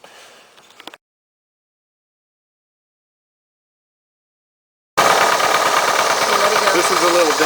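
After a brief noise and several seconds of silence, a 1973 Honda ST90 TrailSport motorcycle engine idles up close with a steady, buzzing rattle.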